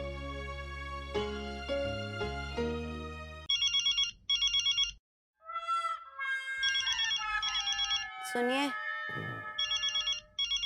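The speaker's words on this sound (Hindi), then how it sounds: "फोन बज रहा है, उठाइए ना।" An electronic phone ringtone chirps in repeated bursts after some music, with a voice speaking briefly between the rings.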